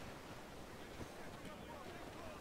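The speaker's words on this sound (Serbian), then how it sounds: "Talasi su prejaki, moramo smanjiti ovo." Strong sea waves in Assassin's Creed 4 Black Flag make a soft, steady wash of surf and wind, heard faintly and alone without talk.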